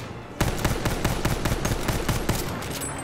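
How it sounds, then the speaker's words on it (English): Rapid carbine fire from Battlefield 1, a fast string of sharp shots roughly every fifth of a second that starts abruptly and runs steadily to the end, loud and close over a dense game background. "carbine is rapid fire"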